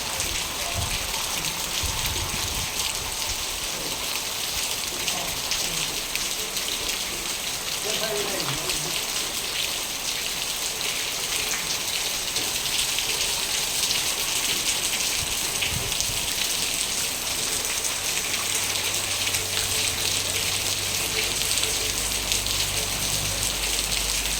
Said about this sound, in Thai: แล้วมันไม่ตกเปล่ากับฝนตกแดดออกด้วย